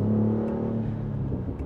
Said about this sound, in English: you still do have an actual exhaust to give it a sound from the back too